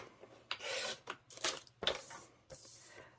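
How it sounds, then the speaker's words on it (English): A paper trimmer blade rasps through cardstock in several short scraping strokes, close and fairly quiet, with brief pauses between cuts. "I'm going to trim off these sides here"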